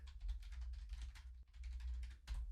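Quick, light keystrokes on a computer keyboard, close and soft, tapping in an uneven stream with a brief pause midway.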